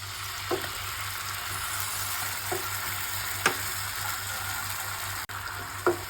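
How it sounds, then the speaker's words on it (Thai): Shallots frying in a wok, a steady close sizzle that runs throughout, broken by a few brief clinks from stirring, with no talking. "เจียวหอมให้หอมก่อน ใส่น้ำมะขามลงไปนะคะ"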